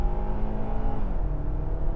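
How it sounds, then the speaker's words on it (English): A 2025 Hyundai Tucson gas engine pulls hard from 0 to 60 in sport mode, giving a steady, moderately loud hum and drone heard from inside the cabin with no talking. "We're going to do a 0 to 60 on this"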